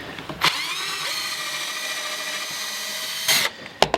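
A power drill whirs steadily at close range for a few seconds, starting and stopping with short bursts at each end.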